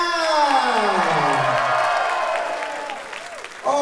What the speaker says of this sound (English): one more big round of applause for tonight